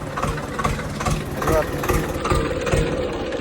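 A Swaraj 724 XM Orchard tractor engine idles steadily close by, a low chugging rumble with a regular pulse, while a person talks over it.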